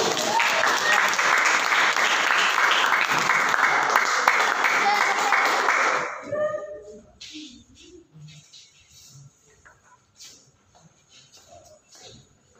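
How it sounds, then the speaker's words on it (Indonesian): Applause for a group of presenters rings out loud and dense for about six seconds, then breaks off into scattered faint shuffling and a few soft thumps in a quiet room. "Aplaus untuk kelompok 1."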